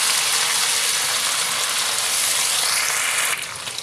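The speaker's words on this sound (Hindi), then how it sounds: "बॉईल किया हुआ चिकन डालते हैं। एक 2 मिनट के लिए फ्राई करते हैं।" Boiled chicken pieces fry with golden-browned onions in a pan, giving a loud, steady, close sizzle that holds for several seconds and eases slightly near the end, with no talking.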